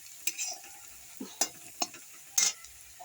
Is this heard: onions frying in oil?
yes